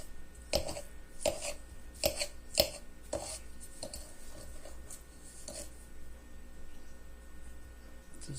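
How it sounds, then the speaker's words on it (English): A knife chops ingredients on a board while a cake is baked from scratch: about six sharp, distinct knocks in the first three seconds, then a few softer taps, alone with no talking. "I'm going to start by just chopping"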